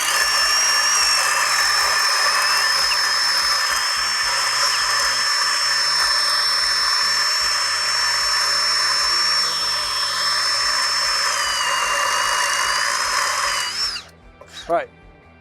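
A Diablo carbide hole saw driven by a right-angle brushless drill bores into wood with a loud, sustained high whine and grinding for about fourteen seconds, then winds down abruptly, with a voice briefly heard near the end.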